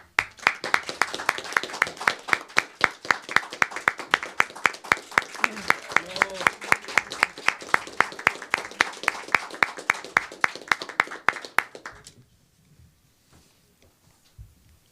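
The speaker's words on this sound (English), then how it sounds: "let's welcome him with a big round of applause" Sustained audience clapping at a conference greets a moderator taking the podium, dense rapid hand claps for about twelve seconds before cutting off into near silence.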